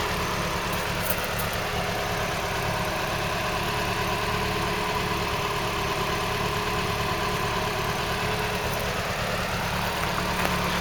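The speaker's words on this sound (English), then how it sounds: "Listen to that engine though, doesn't that sound nice?" A Ford Cortina Mk3 classic car engine idles steadily and evenly close by, a continuous low mechanical hum with no voices.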